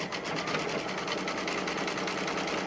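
An embroidery machine stitches a zippered pouch in the hoop, its needle hammering in a fast, even, mechanical rhythm, close and continuous throughout.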